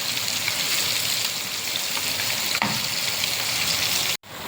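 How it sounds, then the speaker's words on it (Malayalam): Anchovies fry in a pan with a steady, even sizzle like light rain, close and constant, with a brief clink midway and a short dropout near the end. "മത്തോലി മീൻ പൊരിച്ചതെല്ലാം ഇത് ഫ്രൈ ആയിട്ടുണ്ട്"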